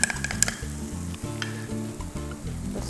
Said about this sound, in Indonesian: terus kemudian tumis.